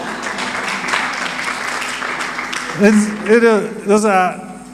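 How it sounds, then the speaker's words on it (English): University students applaud at a trade report launch, a steady wash of clapping through the clip, with a voice speaking over it toward the end. "I'm now expecting the KU students to applaud me, for that."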